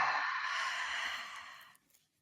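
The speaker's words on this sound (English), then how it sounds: "And then you can do an audible breath out." A single long, audible breath out, a soft airy exhale close to the ear that slowly fades away into silence.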